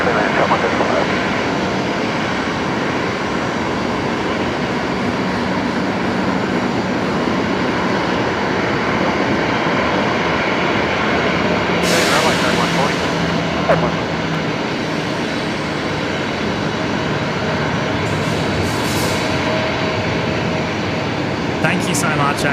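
An airliner lands on runway 19 at Brisbane Airport at night, a steady broadband engine roar filling the whole stretch, with a brief louder hiss partway through and faint talk underneath.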